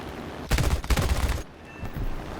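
Machine gun fire from an A6M2 Zero fighter in War Thunder, two loud rapid bursts in quick succession followed by quieter engine drone and a faint trailing rattle.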